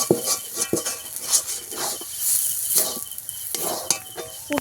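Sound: stirring potato patty filling with roasted spices in wok

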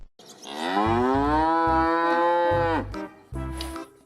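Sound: cow mooing, toy animal sound

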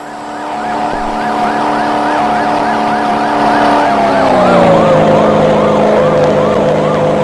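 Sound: police car siren in a video game

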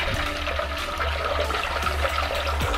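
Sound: water being poured into pani puri masala

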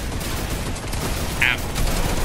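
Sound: turret gunfire in Fortnite video game

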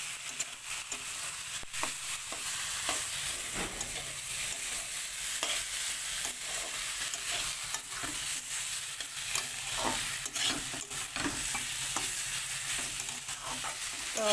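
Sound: khichuri cooking and being stirred in a pot

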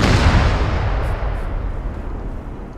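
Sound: C-12 explosives detonating, in a video game

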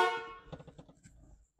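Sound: Chevrolet C10 truck horn honking

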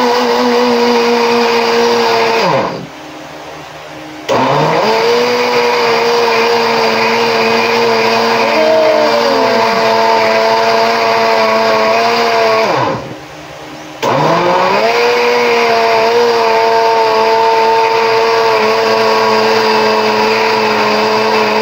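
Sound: blender making mango smoothie

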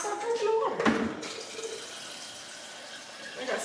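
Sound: water filling a drinking cup

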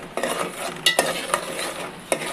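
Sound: stirring and dry-frying masala in oil

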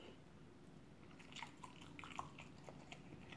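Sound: eating fish cake bar

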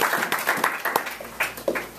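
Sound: applause

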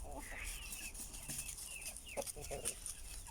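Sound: rooster Jilet among hens

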